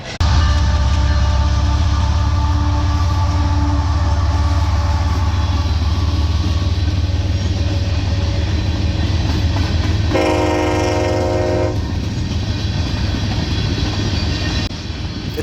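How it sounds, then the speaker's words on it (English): A loud Norfolk Southern freight train rumbles steadily past up close at Fostoria, Ohio, its horn blaring for a couple of seconds partway through before the rolling din continues. "The train is westbound N369."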